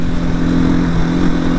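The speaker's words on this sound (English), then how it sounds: "revving it up higher and higher" A Janus Halcyon 250 motorcycle engine revs hard on a ride, a loud steady buzzing drone held at high RPM throughout, with no talking.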